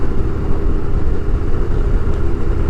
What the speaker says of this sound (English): when you're riding motorcycles like that with very loud exhaust